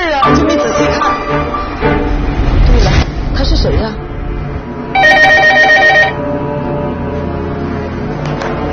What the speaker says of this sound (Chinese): 请问你们这刚才谁给姓殷的家里打过电话？